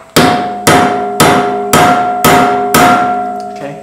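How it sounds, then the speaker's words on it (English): Six sharp, ringing hammer strikes land evenly on a spring-steel dagger blade clamped in place, each blow close and loud with a metallic tone that rings on between hits. "Hit it with a hammer."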